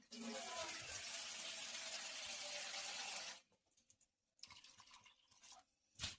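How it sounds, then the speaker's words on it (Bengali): Water poured from a container onto potatoes inside a pressure cooker, a close, loud splashing pour for about three seconds, then quieter trickles and small clinks. "জল দিয়ে দিচ্ছি আলুর মধ্যে।"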